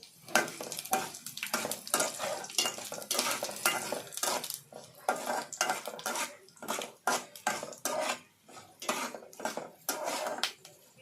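Curry leaves and tempering spices crackle and sizzle in a hot pan amid busy stirring and repeated metallic clinks of a utensil against the pan.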